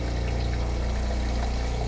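Steady, unbroken rush of water streaming from an RV faucet as pink antifreeze is pumped through during winterization, with a constant pump-like hum underneath and no voices.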